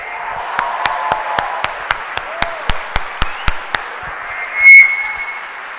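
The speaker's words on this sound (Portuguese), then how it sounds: "eu quero uma salva de palmas" A church congregation claps in a steady, evenly spaced rhythm of sharp, distinct beats, moderately close, over a low murmur; a brief whistle or tone cuts in near the end after the clapping stops.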